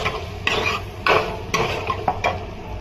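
Onion sautéing in a pan, repeated spatula strokes scraping through the pan in a loose rhythm over a light sizzle, close and fairly loud, no talk.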